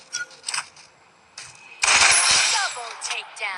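Gunfire in the mobile battle game Free Fire: a dense burst of rapid, loud shots erupts after a few faint clicks, followed by trailing scattered pops and echoes.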